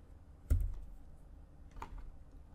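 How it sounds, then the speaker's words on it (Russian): A single key struck on a computer keyboard while working in SketchUp, a sharp close click followed later by a second softer tap against quiet room tone. "Нажимаю на клавиатуре клавишу M."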